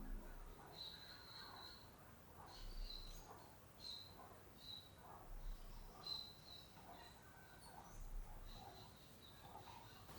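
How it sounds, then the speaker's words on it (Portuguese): Birds chirp and call in the Amazon rainforest, high thin repeated notes coming every second or so over a steady hiss of forest insects, fairly faint and distant. "Você consegue ver as conversas entre os passarinhos."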